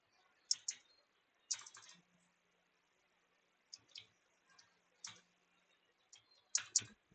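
Code being typed on a computer keyboard in short, quiet bursts of close keystroke clicks separated by pauses.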